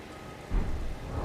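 Steady rain falls in the Elden Ring game world, a continuous broadband hiss that grows heavier and louder about halfway through, with low rumbling underneath and no voices.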